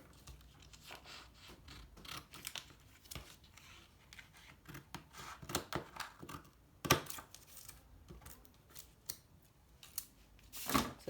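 Scissors cut out a paper bodice pattern. Quiet, irregular snips and crisp paper rustles come close by, spaced unevenly over several seconds, with a couple of sharper crunches.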